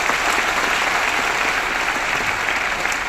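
Dense, steady applause from a large crowd fills the space, loud and sustained without a break.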